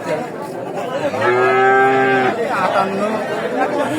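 A cow moos once, long and loud, at a busy cattle market in Bhangura Sharatnagar, with crowd chatter and voices around it before and after.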